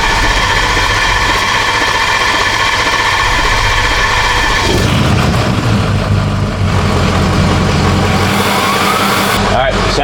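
A Ford 6.0L Powerstroke diesel truck engine rumbles loudly and steadily at idle, with a shift in its tone partway through as it settles; a voice speaks over it.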